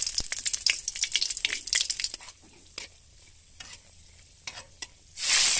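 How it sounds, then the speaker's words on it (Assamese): Kalonji seeds and dried red chillies sizzle and crackle in a hot pan with oil, in bursts of popping and stirring that die down, then a loud hiss swells at the end. "এতিয়া ফ্ৰাই কৰিম। কেইটামান কালজিৰা দি লৈছোঁ, তাৰপিছত শুকান জলকীয়া দিছোঁ"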